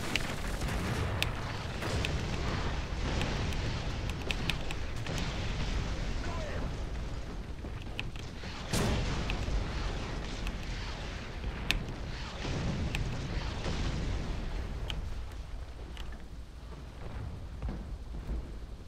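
T34 Calliope rockets exploding in the tank game War Thunder, a dense rumbling barrage of booms and blasts that rolls on continuously, with one sharp hit standing out midway and a voice talking over it.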